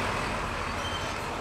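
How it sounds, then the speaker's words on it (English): Trucks passing on a road beside a brewery in Portland, Oregon: a steady, loud broadband roar of heavy traffic that fills the whole moment with no break. "trucks are loud"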